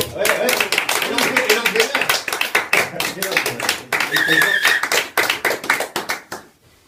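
A small group clapping in a sports radio studio, distinct individual claps in a brisk, uneven rhythm, close and loud, with voices talking over them before the clapping fades out.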